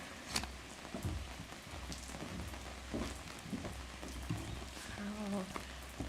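Rain falls on an outdoor parking lot at a university convocation, a soft patter with scattered heavier drops and faint background sounds, fairly quiet and distant.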